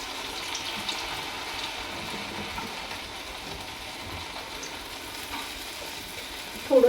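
Medu vada, the crispy lentil fritters, frying in hot oil in a kadhai, giving a steady soft sizzle throughout with a brief louder burst at the very end.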